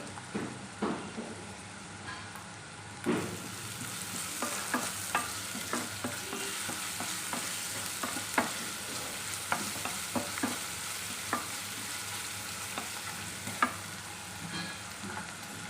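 Onions frying in a pan with salt and ginger pieces, a continuous close sizzle broken by repeated spatula scrapes and taps in an uneven rhythm, with no voices.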